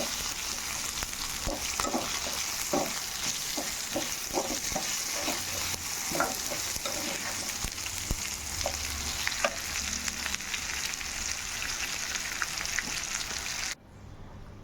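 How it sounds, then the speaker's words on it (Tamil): Onion, tomato and garlic for a horse gram chutney sauté in a hot pan, a steady close sizzle with irregular soft scraping stirs throughout, then the sound drops away abruptly near the end. "வீடியோவில் காட்டுற மாதிரி நல்லா வதக்கியிருக்கணும்"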